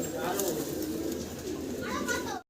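Pigeons, including Danish breeds, coo at a pigeon farm in soft, close, repeated calls, with a person talking over them.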